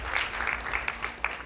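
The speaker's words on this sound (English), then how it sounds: "A round of applause to him as well" Applause after a best-speaker announcement at a high school debate grand finale between Alliance High School and Mpesa Foundation Academy, a fairly quiet, steady patter of clapping from the audience for about a second and a half.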